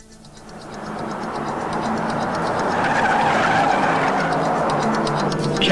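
A cartoon car speeds along in a chase, a loud, rising rushing roar that swells over the first second and then holds steady and close, with no voices.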